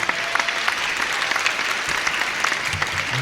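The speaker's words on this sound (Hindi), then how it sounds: "एक बार पूरा सदन दोनों हाथ उठाकर जोरदार तालियों से मुझे आदेश दें।" Loud, dense applause from a poetry recital audience in a hall at a Narmada Jayanti celebration, a steady wash of many hands clapping together without a break.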